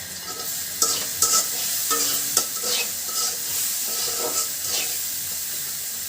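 Whole cumin seeds crackle and sizzle in hot oil for a village-style banana blossom fry, a close steady hiss with several sharp spatula clanks and stirring scrapes, and no one speaking.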